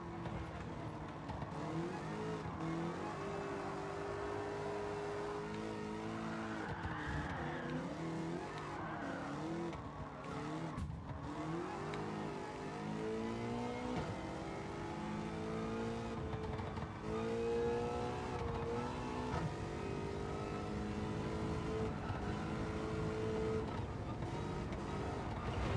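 A DeLorean with an LS7 engine swap races on nitrous in Gran Turismo 7, its engine droning and rising through gears continuously with occasional tire squeal, loud and steady throughout.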